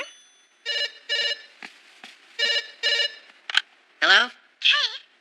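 A telephone rings in repeated double bursts, loud and close, in a scene from the anime series Please Teacher, with a voice speaking between the rings.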